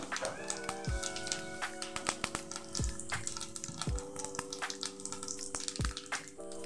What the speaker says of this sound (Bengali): এবার আমি একটা তেজপাতা আর একটা শুকনো লঙ্কা দিলাম। ছোট চামচের 1 চামচ গোটা জিরা দিলাম ফোড়নে।